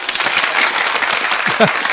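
Studio audience applause on a talk radio show, a brief dense patter of many hands clapping at once, with a voice heard near the end.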